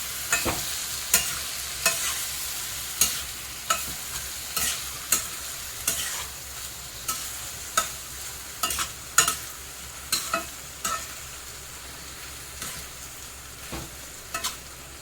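Ridge gourd thecha being sautéed in a pan, rustic village style, with a spatula scraping and tossing it in steady strokes about once a second over a soft background sizzle, close and alone with no voices.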